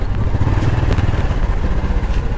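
A motorcycle engine runs close by with a steady low rumble and slight clatter, holding a constant idle-like tone throughout with no talking.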